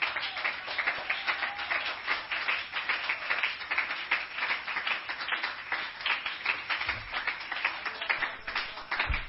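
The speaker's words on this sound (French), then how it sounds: "On peut acclamer le Seigneur." Church congregation clapping together in steady rhythmic applause, a dense, continuous patter of many hands sounding somewhat muffled and band-limited.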